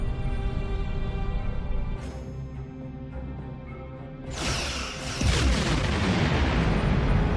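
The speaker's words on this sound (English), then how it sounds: "Target that ship, and fire all weapons!" Heavy starship weapons fire in the Star Trek Online space battle: a loud, rumbling barrage after a tense low drone, building into a dense, sustained roar of blasts and booms that fills the last few seconds.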